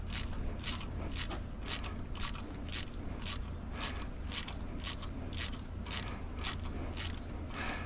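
A ratchet tightens injector bolts on a CAT C7 engine, giving a fast, even series of sharp clicks close by over a low steady hum.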